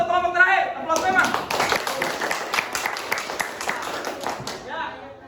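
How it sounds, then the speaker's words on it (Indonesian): A classroom group applauds the last team during a teaching-practice session, with a burst of many hands clapping steadily for several seconds amid voices before fading. "Aplaus dulu untuk kelompok terakhir."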